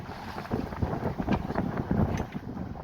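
Wind on a sailboat under sail on a port tack, a steady blustery rush with gusts buffeting the microphone and water washing along the hull, fairly loud and close.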